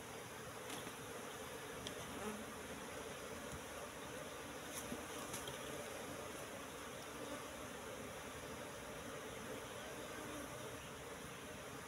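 A swarm of wild Apis cerana honeybees buzzing as a steady, dense drone that holds at the same level throughout, with no talk over it.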